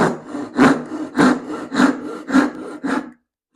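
A hand saw cutting wood clamped in a slightly racked vise, the workpiece held too high so the blade chatters and vibrates; six rhythmic rasping strokes, close and loud, then silence.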